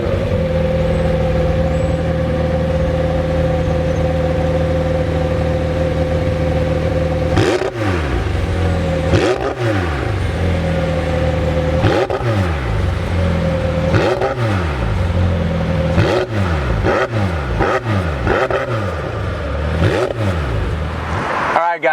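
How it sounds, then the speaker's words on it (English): A 2019 McLaren 720S starting up, its engine idling steadily before a series of sharp blips rise and fall repeatedly, loud and close. "If you're ready, I'm ready to hear what this thing starts like. Let me go ahead and fire it up"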